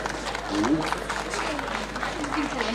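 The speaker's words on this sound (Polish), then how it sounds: "Wielkie brawa," A crowd at an outdoor harvest festival applauds, steady clapping running throughout under a loud, echoing voice on a public address system.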